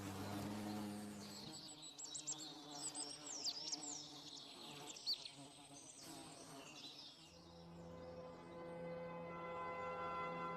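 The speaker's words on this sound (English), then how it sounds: "In order to maintain the ideal temperature for the pampered larvae, female workers beat their wings," Hornet workers beating their wings to ventilate the nest near the Plitvice lakes: a dense, steady insect buzzing drone with fluctuating higher whines layered over it, continuous throughout and fairly faint.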